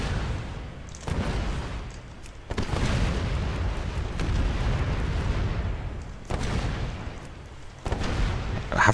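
Shot-down airships exploding in World of Warcraft Legion, a series of heavy booming blasts that each swell into a long rumbling roar, loud and close, several in succession.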